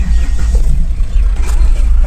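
A traffic jam sits on a badly potholed road. A heavy, loud, close engine rumble holds through the whole clip, with slight revving swells.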